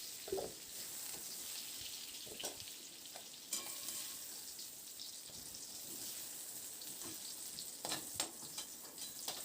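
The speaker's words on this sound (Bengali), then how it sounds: "আলু আর পেঁপেটাকে হালকা করে একটু ভেজে নিয়েছি" Quiet sizzling of potato and papaya frying in a pan, with intermittent spatula scrapes and taps; continuous and close, no voices.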